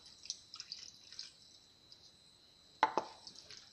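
Water is added to a pan of Chicken Manchurian, giving one brief splash and pour against a quiet kitchen background, with a softer second splash just after.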